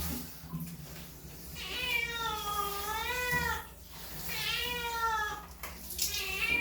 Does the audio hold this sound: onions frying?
no